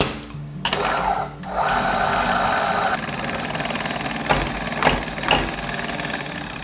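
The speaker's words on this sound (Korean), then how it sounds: "가정용 핸드밀들은 대부분 날에서 바로 떨어지는 경우가 많으니까 한 서너 알 정도만 넣고 분쇄를 하셔도 될 것 같아요" A home hand grinder crushes Panama coffee beans, a close, steady gritty grinding with rattling bursts and occasional sharper cracks toward the end.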